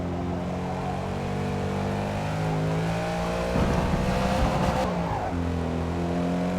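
A race car engine in the video game Forza Motorsport (2023) drones with shifting pitch, climbing and dropping through gears, with a brief rougher burst partway through; steady and fairly prominent.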